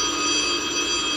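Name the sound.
telephone ringing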